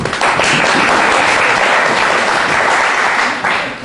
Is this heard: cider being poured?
no